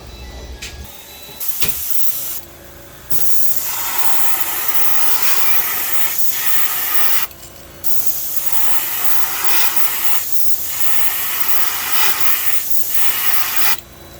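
A heat gun hisses loudly while heat-setting paint on a Megabass 110 Ghost Minnow lure blank, a steady airy roar cutting off and restarting a few times, close, with no talking.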